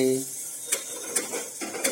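Hot oil sizzling and crackling as spices are tempered for Kathiyawadi kadhi, with a few sharp metallic clinks of a ladle against a pan.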